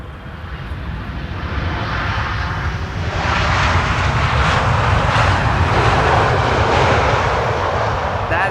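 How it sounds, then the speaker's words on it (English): An airliner lands at Amsterdam Schiphol Airport on a sunny, crosswindy day, its engine roar building steadily from a moderate rumble to a loud, sustained broadband roar with no talk over it. "Let's see how the landing will go and whether or not they'll deploy the reversers."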